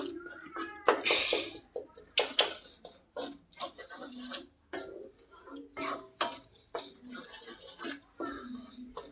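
Chicken pieces rinsed with water in a vessel: close, uneven splashes and sloshing in short bursts with brief pauses, plus occasional drips and light clinks.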